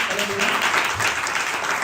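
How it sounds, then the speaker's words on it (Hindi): Church congregation clapping for a brother who cooked biryani for them, a short burst of moderate applause with voices mixed in. "तो तालियां मारो ब्रदर को"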